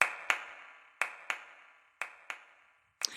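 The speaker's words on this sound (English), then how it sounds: "If we clap in an open space standing against a tall wall, we will also hear the sound of our clap again and again." Single sharp hand claps in an open space beside a tall wall, about seven in total at irregular intervals. Each crack is followed by a short ringing echo tail before silence.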